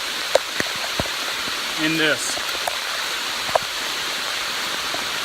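Heavy rain falls on the Appalachian Trail as a steady broadband wash, with scattered sharp drips and a brief voice partway through.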